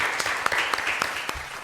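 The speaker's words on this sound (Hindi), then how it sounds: "एक ताली तो बनती है इनके लिए।" A studio audience claps for a dance performance on a televised dance competition, brief scattered applause close by.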